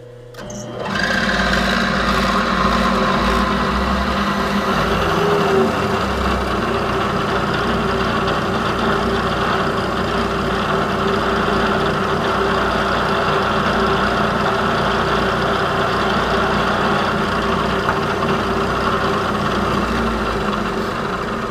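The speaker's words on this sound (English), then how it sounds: "So now we'll just use a center drill, get it started, and we'll drill a 8mm hole." A lathe drills an 8mm hole with a center drill, running steadily with a constant mechanical whir and faint drilling hum, starting after a brief quiet moment and continuing evenly without talk.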